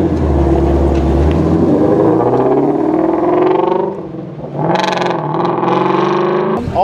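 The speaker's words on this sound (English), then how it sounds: "The exhaust in this car is fantastic, as you may have heard already" A 2016 Ford Mustang Shelby GT350 exhaust rumbles at a low idle and then revs up in loud, rising and falling bursts. The exhaust is close and dominates throughout.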